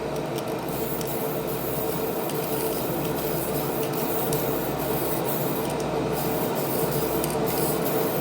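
Aerosol spray can laying down extra coats of paint after losing pressure, a steady continuous hiss running unbroken and fairly loud throughout, with no voices.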